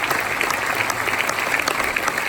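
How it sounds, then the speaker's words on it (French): An audience applauds an association at a charity singing event, a dense and even patter of many hands clapping steadily and fairly loud, with no speech over it. "J'aimerais qu'on applaudisse encore bien fort cette association."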